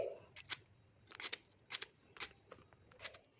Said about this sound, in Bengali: আমি মাঝারি সাইজ করে পিস পিস করে কেটে নিচ্ছি।